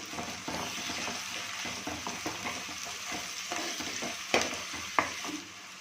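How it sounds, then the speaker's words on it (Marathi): Onion with a spoonful of ginger garlic paste frying in a pan for methi chicken, a soft steady sizzle under light stirring scrapes and a couple of louder clinks near the end, with no talk. "आपला कांदा छान परतून झाला की आता आपण याच्यामध्ये एक चमचा आलं लसणाची पेस्ट घालणार आहोत"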